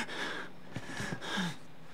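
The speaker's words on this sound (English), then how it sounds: "My character is breathing very heavily." A video game character in Outlast breathes heavily: several ragged, gasping inhales and exhales in quick succession, close and fairly loud, with no talk.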